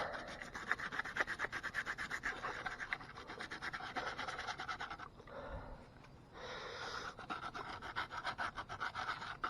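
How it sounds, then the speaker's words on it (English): Sandpaper rubs a 3D print in steady rough scratches with a fast back-and-forth rhythm, close up, with a brief pause in the middle before the scraping resumes. "what's making the scratching sound more, the sandpaper or the print"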